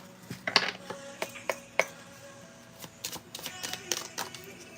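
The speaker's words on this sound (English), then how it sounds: "Let's do one more shuffle." Tarot cards are shuffled during a live reading, giving irregular quick clicks, snaps and riffles at close range that come and go in short bursts over a quiet background.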